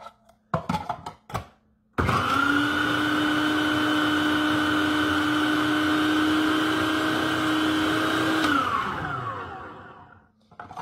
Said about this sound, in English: if you don't have a food processor, try and borrow one